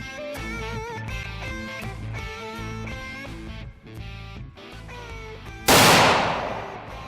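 A single sharp rifle shot cracks loudly at a shooting range during sighting in, following several seconds of background music and then fading into a brief echo.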